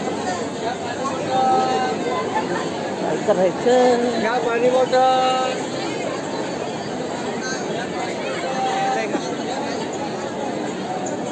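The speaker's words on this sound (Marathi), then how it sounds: "यावर्षी लय म्हणजे लय गर्दी आहे." Dense crowd chatter in a packed temple darshan queue, many voices murmuring and overlapping at close and middle distance, with a few louder nearby voices speaking over the steady babble.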